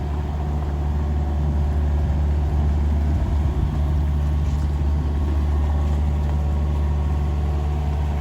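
A Yanmar SV-40 mini excavator's diesel engine in low gear while driving through a mud puddle, a steady, loud, low-pitched drone that stays constant and close throughout, with no voices.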